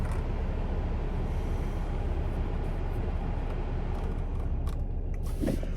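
A 2014 Ford Ranger 3.2 TDCi 200 Wildtrak diesel pickup with a Raptor kit starts at once and settles into a steady, close, low rumbling idle throughout, with no voices.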